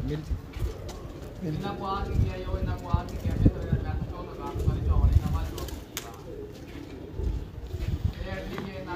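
A champion pigeon in Multan coos in low, throaty rolls close by, with other birds and a voice murmuring in the background.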